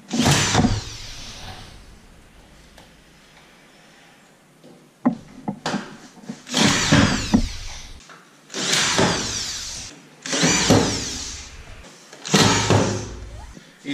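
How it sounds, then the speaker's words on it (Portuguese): A drywall screw gun, set to sink screws deeper than usual, drives screws into drywall corner bead in an apartment bedroom closet build. It gives five loud, close whirring bursts of a few seconds each, separated by short pauses, with no talk. "a gente vai usar aqui a parafusadeira de drywall regulada aqui para o parafuso entrar um pouco mais que o normal"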